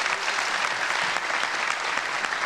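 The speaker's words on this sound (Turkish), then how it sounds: "Bir alkış." A studio audience at a comedy show breaks into dense, steady applause, loud and continuous throughout with no talking over it.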